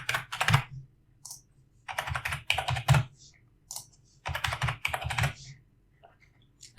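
Brisk bursts of typing on a computer keyboard fill in checkout details on a WooCommerce online store, clattering in quick runs separated by short pauses, close and clear with no talking.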